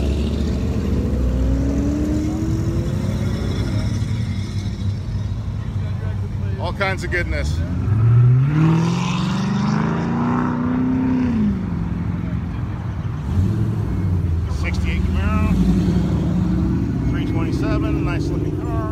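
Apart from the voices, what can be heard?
cars driving past at a car show rollout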